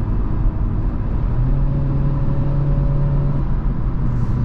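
A 2024 Honda Civic with a 1.5-litre engine accelerates, a loud, steady in-cabin rumble and whir with a rising engine tone held over several seconds, no talking.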